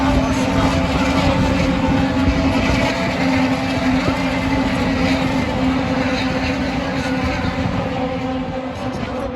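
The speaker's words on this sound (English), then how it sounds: "Here they come on the restart." IndyCar race cars roar past together on a restart at the Indy Grand Prix, a loud continuous blended engine drone from many cars that holds steady and eases slightly toward the end.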